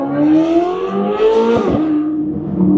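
A car engine fitted with an upgraded downpipe and titanium exhaust revs hard and close, its rising and falling drone peaking in a sharp burst of throttle near the middle before settling back to a steady roar.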